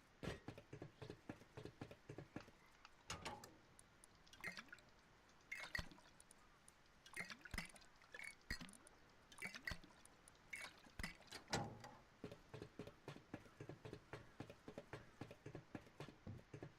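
Horse hooves clip-clop steadily in the survival game Rust, a rhythmic run of hoofbeats at moderate distance with a few louder, closer steps, heard alone without talk.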